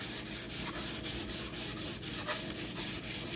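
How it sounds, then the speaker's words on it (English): Abrasive grinding on a steel axe head with a hand grinder to remove rust, a steady rough scraping with regular rhythmic pulses of contact, moderately loud and close, with no talking. "So take it to the grinder"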